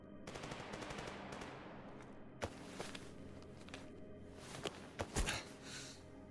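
Gunfire in a shooter video game, rapid automatic bursts up front and then sharp separate shots and cracks spread through the rest, fairly close and loud, with footsteps between volleys.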